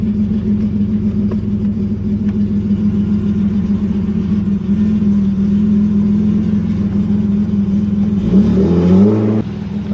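A BMW E36 engine holds a steady, loud idle for several seconds, then revs up sharply and drops back near the end.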